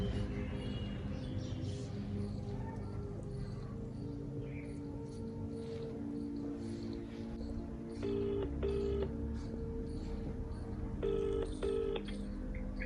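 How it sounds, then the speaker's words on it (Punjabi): A series of electronic phone dialing tones beeps in short bursts, with a second cluster of tones later, over a steady background hum; no voices. "ਫੋਨ ਲਾਉਂਦੀ ਆ ਪਹਿਲਾਂ"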